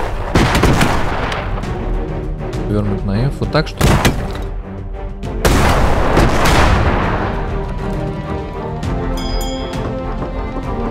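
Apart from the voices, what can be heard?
airship cannon fire in the video game Airships: Conquer the Skies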